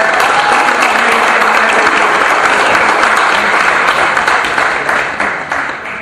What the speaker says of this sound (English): So I just want to give her another round of applause for all the work and everyone else before